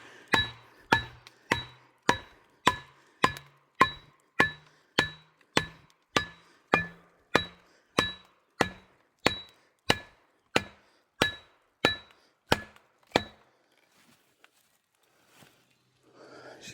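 An axe strikes wood while clearing fallen trees, about twenty sharp, evenly spaced chops in a steady rhythm, close and crisp, followed by a few seconds of near silence.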